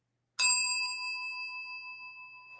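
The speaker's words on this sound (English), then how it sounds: "She gets the bell for that." A single bright bell ding sound effect strikes sharply, then rings on with a clean sustained metallic tone that slowly fades, alone in silence.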